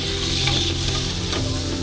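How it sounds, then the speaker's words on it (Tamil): Onion and green chillies sautéing in a pan, a loud, continuous close-up sizzle with faint stirring scrapes running through it. "நல்லா வதக்கி விட்டுக்கலாம்."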